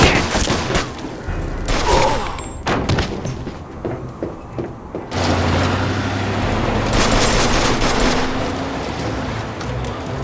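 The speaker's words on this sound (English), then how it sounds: "Shoot this asshole!" Gunfire in the video game Mafia 2, a dense burst of loud overlapping shots and booms through the first half, giving way to a steady engine-like rumble with continued noisy action.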